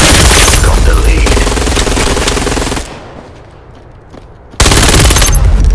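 Rapid automatic fire from an APC9 Pro in the VR shooter Vail VR, loud and dense bursts that cut out for a couple of seconds of quieter game ambience before another loud stream resumes.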